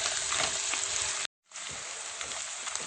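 Finely chopped onions with red kapya and green peppers sizzle and fry steadily in butter in a pan, a dense continuous hiss that cuts out briefly and resumes.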